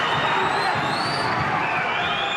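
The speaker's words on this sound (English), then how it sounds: "Crowd making a lot of noise now." Boxing crowd at an Alex Arthur versus Nazareno Ruiz bout roaring and cheering in a steady, loud, unbroken wash of massed voices with no distinct claps or commentary.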